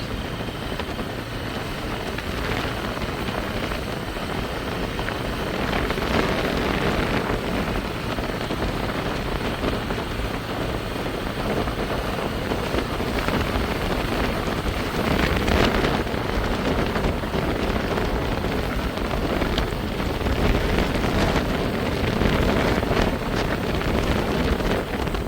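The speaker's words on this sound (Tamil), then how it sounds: "என்ன வேகமாக காற்று அடித்து கொண்டிருக்கேன்" Strong wind after a storm roars steadily across the microphone for the whole stretch at Pungudutivu island near Jaffna, a loud, unbroken buffeting rush with gusty swells and no voices.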